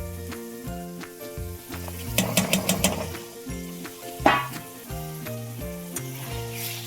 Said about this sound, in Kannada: ಟೊಮೆಟೊ ಸ್ವಲ್ಪ ಬಾಡೋವರೆಗೂ ಫ್ರೈ ಮಾಡಿ